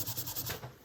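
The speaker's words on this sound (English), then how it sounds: "Give it a sand down to smooth the edges" Hand sanding of painted scrap wood for a Christmas porch decoration, quick close back-and-forth rubbing strokes in a steady rhythm, short and alone without talk.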